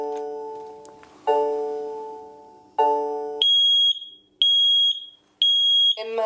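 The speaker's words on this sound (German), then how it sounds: "Smoke alarm silenced." A Nest smoke detector sounds its alarm: a few loud, harmonic electronic beeps, then a run of sharp, evenly spaced high-pitched chirps with short silences between them, heard close up in a quiet room.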